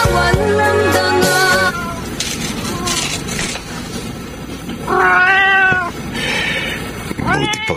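Cats meow loudly in a series of drawn-out, wavering calls, with a long yowl near the start, another in the middle and a final one at the end, mixed with close background sound.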